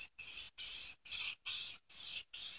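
Short bursts of clear coat hissing from a spray can onto a spray paint painting, six quick even sprays in a steady rhythm with brief gaps between, close and bright.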